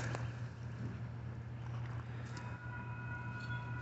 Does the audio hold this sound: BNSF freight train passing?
yes